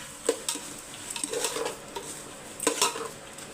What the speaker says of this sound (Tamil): இஞ்சி பூண்டு பேஸ்ட்டு போட்டு நல்லா வதங்கட்டும்